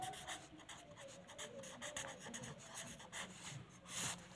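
A math question being written out by hand, a faint, close scratching and rubbing of pen or marker in short strokes, steady and quiet with no talking.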